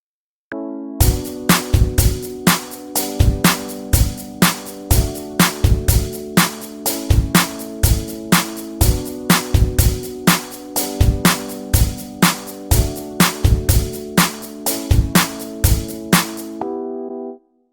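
A programmed drum track plays a steady, repeating groove with a shaker layered on top. The beat is punchy and loud and runs for several bars before ending cleanly, with nothing else heard.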